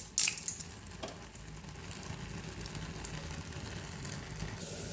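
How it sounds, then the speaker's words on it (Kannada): Chana dal frying in hot oil in a pan for a chilli and onion dish, a steady close sizzle with a brief sharp crackle near the start, continuing evenly throughout with no talk. "ಇದಕ್ಕೆ ಒಂದು ನಾಲ್ಕು ಕಡಲೆಬೇಳೆ ಹಾಕ್ತೀನಿ"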